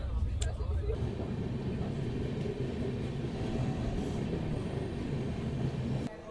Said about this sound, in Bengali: ট্রেন এখন এসে দাঁড়িয়েছে বর্ধমানে 1 নম্বর প্ল্যাটফর্মে